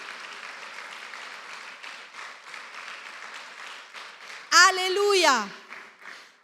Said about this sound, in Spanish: Denle un fuerte aplauso al Señor entonces.